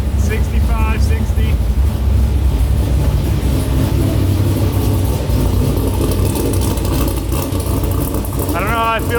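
A Mazda Miata fitted with an LS V8 and a dry-sump setup idles steadily on its first start, a loud continuous engine rumble running throughout with brief higher whines near the start and end, and a voice speaking over it.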